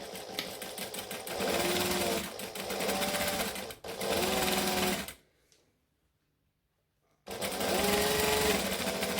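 Sewing machine stitching fabric pieces for a Christmas tree skirt in short bursts of fast, buzzing stitches, with brief pauses between runs and a longer silent gap before a final burst, close and clear.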